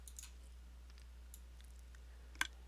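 Faint, sparse mechanical clicks from a Minecraft semi-automatic cooking contraption scattered over a low steady hum, ending with one sharper, louder click near the end.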